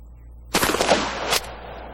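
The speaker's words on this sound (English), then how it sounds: "Here's what happens when you fire a rifled slug at 50 yards." A shotgun fires a rifled slug at a 50-yard target: one loud, sharp blast with a brief echoing tail, then a second short crack just after, all alone with no talk.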